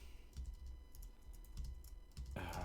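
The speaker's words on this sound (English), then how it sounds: "My typing is so bad." Quick, uneven keystrokes on a computer keyboard, soft and close, clustered in short bursts with a denser flurry at the end.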